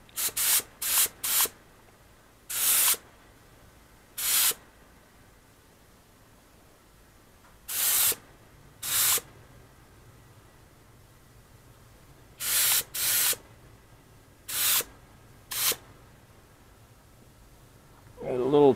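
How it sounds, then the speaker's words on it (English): Spray gun painting a part of a Honda GL1500 motorcycle, heard as a string of short, sharp hissing blasts of varying length separated by quiet gaps, close and loud, with no talking. "Now I have to adjust my spray pattern."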